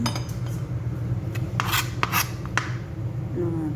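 A knife cuts sitaw (string beans) into small pieces on a board, giving a series of sharp taps and scraping rubs at an uneven pace, close and clear with no talk.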